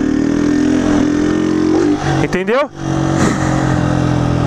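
A motorcycle engine revs hard up to the rev-limiter cut, its steady drone sweeping up and stuttering briefly at the limiter before settling back, with someone talking over it.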